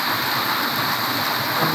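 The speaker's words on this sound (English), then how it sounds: "the hail hurts, but also I was kind of scared of the lightning." Rain and hail storm outdoors in Germany, a steady dense hiss of falling precipitation at constant loudness, with faint low rumble underneath and no voices.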